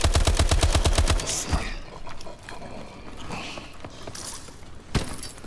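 Rapid automatic gunfire from the Call of Duty: Advanced Warfare Exo Zombies video game rattles loudly in a fast burst, then gives way to clanking mechanical game sounds and a later thump, with a brief spoken interjection.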